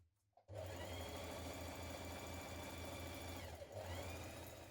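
Sewing machine stitching the centre back seam of a dress, starting up after a brief pause and running in a steady close whir with a quick dip near the end.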